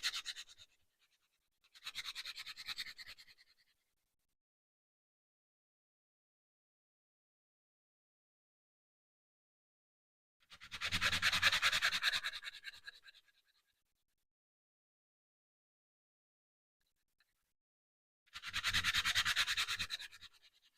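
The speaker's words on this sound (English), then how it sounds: "See how gunky my sandpaper is getting? This softwood." Softwood, pine, hand sanded with sandpaper in four separate bursts of rasping back-and-forth strokes, close and clear, with silence between them.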